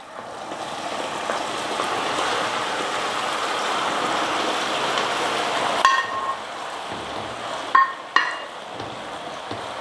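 Caramelized sugar syrup being stirred into thick wheat-flour halwa in a pan, a steady broadband sizzle and scraping for several seconds that thins out toward the end, with a few sharp clinks of a utensil against the vessel.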